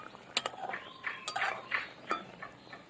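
Rice sweet being stirred with a metal spatula in a pan, giving scattered clinks and scrapes of the utensil against metal, fairly close and moderately quiet.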